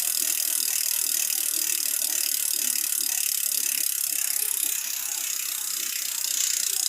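Freshly cleaned and repacked Ragusa R100 bicycle rear hub freewheel spinning, its ratchet pawls giving a fast, even, continuous clicking close up with no talk.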